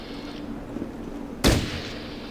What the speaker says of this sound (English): I'm not sure who's shooting at me.